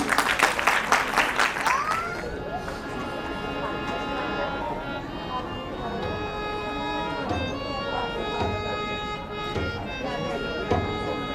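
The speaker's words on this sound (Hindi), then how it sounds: "जोरदार तालियों के साथ स्वागत करिए हमारे छोटे छोटे बच्चों का" Loud applause from an audience at a school annual function, welcoming young children to the stage. The clapping lasts about two seconds, then gives way to sustained music.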